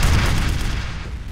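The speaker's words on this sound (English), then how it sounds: "I do have a rocket launcher for this." A rocket launcher firing in F.E.A.R., one loud, booming blast with a deep low-end thump that rolls off gradually over a second.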